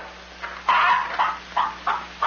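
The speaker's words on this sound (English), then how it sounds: "Lay, hen, lay." A hen, the goose that lays golden eggs in a Jack and the Beanstalk cartoon, clucks in short separate bursts, about five calls spaced unevenly, close and fairly loud.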